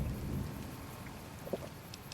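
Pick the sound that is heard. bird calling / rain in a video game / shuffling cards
rain in a video game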